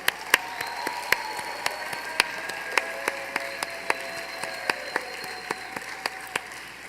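Sparse, irregular clapping from an audience at an awards ceremony, with sharp individual claps standing out over a steady low background hum, a fairly quiet and thin round of applause with no voices.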